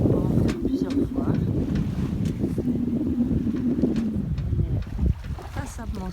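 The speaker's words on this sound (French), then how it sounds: "C'est parce qu'on a un joli vent, on est déjà sous voile, sans moteur." Wind buffets a sailboat running under sail with no engine, a steady low rushing roar with water wash and microphone gusts throughout, with a few faint knocks and thuds aboard.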